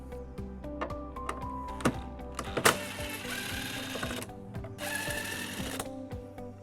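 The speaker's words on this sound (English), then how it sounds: "We're going to remove both of the bolts on here using a 10mm socket." A 10mm socket driven by a power tool removes the tail light bolts on a 2016 Toyota Sienna, giving rapid mechanical whirring and ratcheting in a few bursts with clicks between, close and moderately quiet, with no talk.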